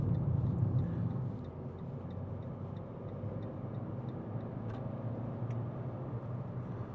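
Fiat 500 1.2 Lounge hatchback from 2017 accelerating at speed on a test drive, with a steady broad engine and road roar throughout, slightly louder at the start.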